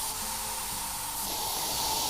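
A steady, hissing spray sound effect from a video game runs continuously for about two seconds at moderate volume over a faint background.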